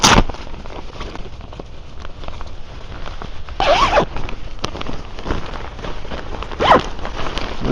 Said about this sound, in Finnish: Täällä sivussa on pitkät vetoketjut, mitkä saa auki.